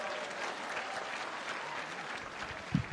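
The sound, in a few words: audience applause for the good men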